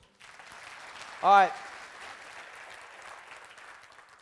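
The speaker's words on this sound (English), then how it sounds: "Give me a round of applause." An audience applauds during a talk session, a steady wash of clapping that runs through nearly the whole stretch, with a short spoken interjection cutting in near the middle.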